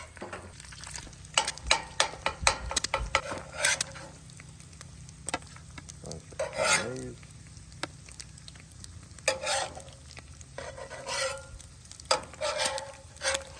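Eggs frying over easy in a Lodge cast-iron skillet on a Bass Pro Shops camp stove by a lake, crackling sizzle with scraping spatula and metal clinks, bursts of close utensil noise over a steady fry.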